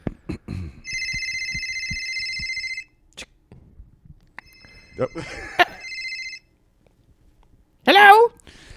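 Outgoing phone call ringback tone, two long electronic rings with a gap between, heard under brief nearby talk and clicks before a voice answers.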